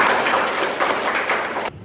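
Dense, continuous applause from a classroom audience during a nursing lecture, a steady wash of many hands clapping that cuts off abruptly near the end.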